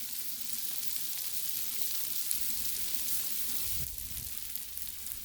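Cabbage, sausage and bacon sizzle steadily on a Blackstone griddle, a loud continuous frying hiss with no talking, dipping slightly near the end.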